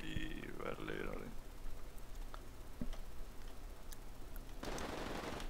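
Distant gunfire in a GTA 5 roleplay session: several faint sharp cracks scattered across the clip, with a short voice near the start and a louder noisy burst at the end.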